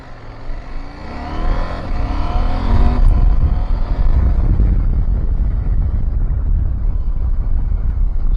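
A KTM 790 Adventure motorcycle accelerating on a road in street throttle mode, engine note rising through revs, then settling into a loud steady drone heavily buffeted by wind noise.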